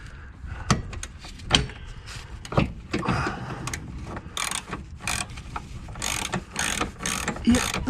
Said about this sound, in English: Right, I'll just try run it in with me ratchet, just to get it started.